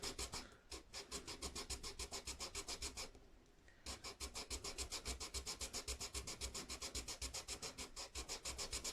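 Gibson guitar saddle from a 1994 Gibson Gospel acoustic rubbed back and forth on 240-grit sandpaper against an engineer's square, a steady rhythmic scratchy rasp of close strokes with a brief pause midway.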